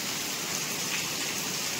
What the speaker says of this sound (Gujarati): વરસાદ જોરદાર એટલે જોરદાર આવે છે.